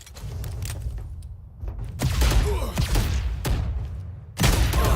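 Gunfire from the tactical shooter Valorant at a Masters Toronto Swiss Stage esports match, with several sharp bursts and thumps over a busy game mix and a watch-party host talking underneath.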